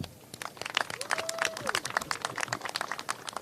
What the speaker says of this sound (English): I want to also give yourselves a round of applause for helping out this beautiful occasion, people.